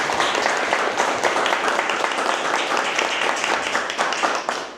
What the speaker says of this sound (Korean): 오늘도 우리 예배 받으신 하나님께 영광의 박수 올려드리겠습니다.